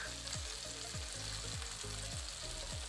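Grated garlic fries in a pan for Indomie noodles, giving a steady close sizzle with soft rhythmic scraping strokes and no talking.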